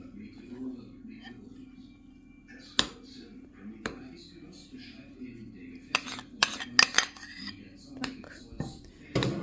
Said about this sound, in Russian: нам надо в эту опару влить яйца наши. Все перемешиваем.